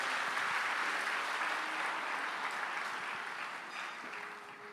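A church congregation applauds the Lord during a sermon, a steady wash of clapping that fills the room and holds evenly, tapering off slightly toward the end.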